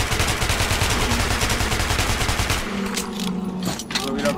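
Rapid automatic gunfire in the post-apocalyptic shooter Metro 2033 Redux, a dense rattling stream of shots that thins out partway through, leaving scattered bursts over a low hum.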